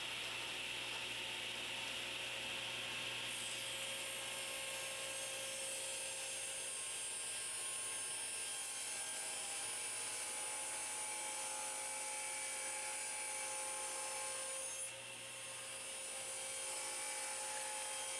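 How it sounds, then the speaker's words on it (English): A table saw drones steadily at high pitch, blade tilted to 14 degrees ripping wood, a continuous whine that shifts slightly midway, with a brief dip near the end. "Now set your saw blade at 14 degrees and rip the top guides."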